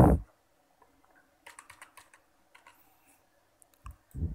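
Computer keyboard typing in short scattered bursts of light clicks, quiet and close, with louder thumps at the start and end.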